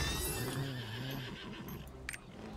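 A horse mount in the video game Lost Ark whinnies clearly in a loud, wavering neigh, followed by a few soft hoof clops over a steady ambient hum.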